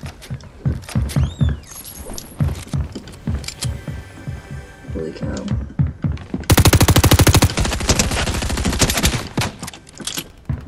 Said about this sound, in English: They were just shooting me.